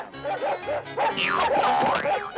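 Cartoon dogs bark in a quick series of short, bright yips and woofs, rising into an overlapping flurry of excited barking near the end.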